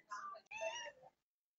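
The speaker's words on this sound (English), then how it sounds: "Is there a meow? Who's meowing?" A cat meows twice in an office, two short, fairly clear calls close together lasting about a second, followed by silence.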